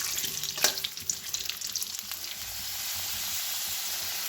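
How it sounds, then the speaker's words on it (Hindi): Potatoes frying in oil in a pan over full flame, sizzling steadily and loud up close, with a few stirring scrapes at first. "जतो आलू बुन खांजो केदा और नौका गे पटल लेका गे फुल आंच रे बुन भाजाया।"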